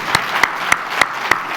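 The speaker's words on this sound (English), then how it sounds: "Let's give them another round of applause." An audience at a city's State of the City address claps, with about six sharp, evenly spaced claps standing out over a soft background, brief and fairly close.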